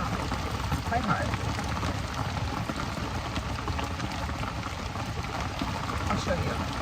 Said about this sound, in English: It's raining hard again.